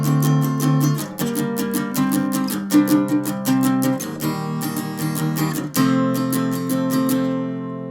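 Guitar picking the intro of a song, a steady stream of bright plucked notes over ringing lower chords, close and clear with no voices.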